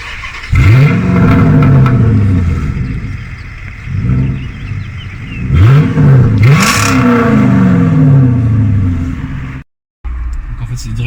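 A 2005 Chrysler 300C with a 5.7-litre V8 Hemi starts and revs repeatedly, deep engine swells climbing and falling in several loud, close bursts with a brief cut near the end, and voices under it.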